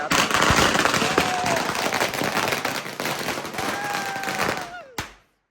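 Firecrackers burst in a rapid, dense crackling string at a Hanuman Jayanti palanquin procession in a village, loud and close with crowd noise and voices underneath, ending in a final sharp bang before cutting off.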